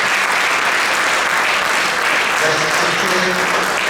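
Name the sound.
audience applause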